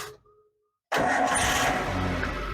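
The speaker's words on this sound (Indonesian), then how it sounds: "Nah, kita lanjut cek suara mesinnya." A 2011 Suzuki Carry 1.5 pickup engine cranks and catches after a brief silence, then settles into a loud, steady close-up idle that runs to the end.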